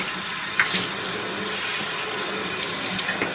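Tap water runs steadily into a sink while vacuum cleaner parts are rinsed, a continuous close splashing rush with a few small clinks and bumps from handling the parts.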